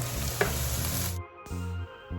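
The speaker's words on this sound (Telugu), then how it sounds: "ఈ వేడైన ఆయిల్లో మనం ఆనియన్స్ అండ్ చిల్లీస్ని వేసుకొని కొంచెం మగ్గనిద్దాం." Onions, chillies, ginger and garlic sizzle loudly in hot oil, a steady broadband frying hiss with a brief lull near the end before it resumes.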